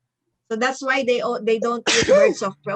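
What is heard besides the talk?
sneeze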